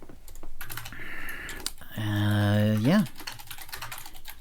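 Fingers tap quickly on a computer keyboard, quiet steady clicking beneath a voice that talks briefly and rises into a drawn-out tone.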